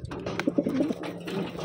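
A pigeon coos softly up close, a short throaty warble repeated a few times over low background noise.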